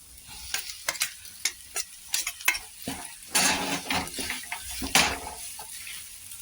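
Boiled potatoes are stirred into a frying stuffed capsicum filling, with a run of distinct scraping and clanking stirs against the pan over a soft sizzle, followed by a denser, louder stretch of mixing.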